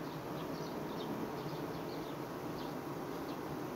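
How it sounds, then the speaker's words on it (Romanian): Opened honeybee hive of a queenless colony giving off a steady, dense buzzing roar with faint higher whining tones on top, continuous and close throughout. "Deci când deschid o astfel de colonie și vezi aceste albinuțe, ele încep și plâng astfel."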